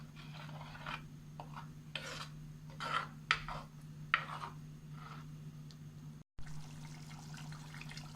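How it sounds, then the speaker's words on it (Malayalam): Beef vindaloo gravy boils in a pan over high heat, giving irregular bursts of bubbling and popping over a steady low hum, with a brief dropout near the end. "ഇപ്പോൾ ഗ്രേവിയൊക്കെ നല്ലതുപോലെ തിളച്ച് തുടങ്ങി."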